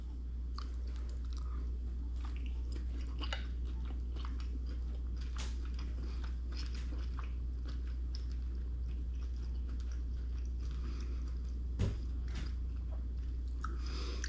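Someone chews a meal of pork, tomato, peas and noodles close to the microphone, with soft wet bites and crunchy chewing repeating steadily over a low constant hum.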